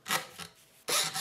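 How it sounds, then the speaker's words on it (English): Locket being sawn in half, a few bursts of harsh rasping strokes, the last long and loud, with short pauses between, close up and alone. "Sawing it in half."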